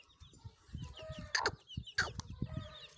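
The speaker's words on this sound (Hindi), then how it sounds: "ये मुर्गी देखें" A mother hen clucks softly in a steady run of low, close calls, broken by two louder squawking bursts, with faint peeping in the background.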